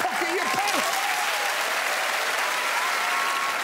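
A studio audience at the Taskmaster taping applauds the day's winner with loud, dense clapping and some cheering, sustained evenly throughout.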